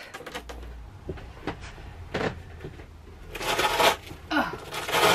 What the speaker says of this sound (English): I've got some big Velcros that I sewed onto the webbing to make it ultra strong. Let's see if I can get those off.